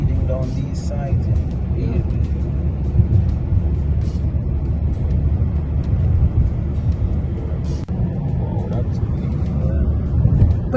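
Cars speeding along a road beside a big lake in Toronto, a loud, constant low traffic rumble with occasional louder passes, heard under near-continuous conversation.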